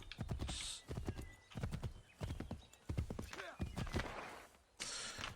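Horse hooves clip-clop in Assassin's Creed III Remastered, a steady walking rhythm of close clatters interrupted by a whinny, with other game sounds around it.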